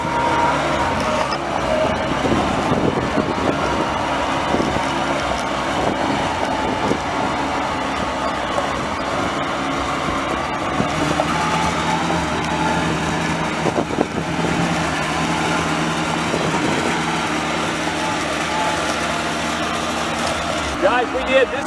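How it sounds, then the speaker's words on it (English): A Spra-Coupe 220 crop sprayer with a Volkswagen 1.8 gasoline engine runs steadily throughout, a continuous mid-level engine drone with broadband noise and occasional clunks, heard close and without pauses. "It's firing up right now and running, and it drives."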